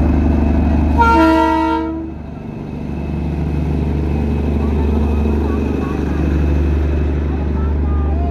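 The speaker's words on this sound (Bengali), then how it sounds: "দাঁড়াও, টয় ট্রেন আসছে, ওটা দেখে নিই।" A mountain toy train passes, opening with a loud, near horn blast lasting about a second, then settling into a continuous low rolling rumble of the cars and engine.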